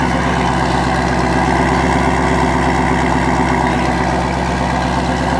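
A Volkswagen Golf R fitted with a Milltek exhaust idles close by, giving a loud, steady, droning exhaust burble that stays even throughout with no voices.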